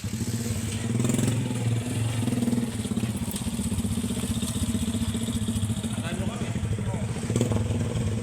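A motorcycle engine idles steadily nearby for the whole stretch, a continuous low rumbling clatter with slight swells, while people talk over it.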